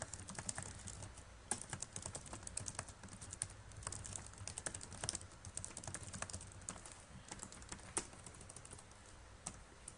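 Steady clicking of a computer keyboard as someone types while writing a blog post, dense rapid keystrokes filling the whole stretch, close and moderately loud with no talking.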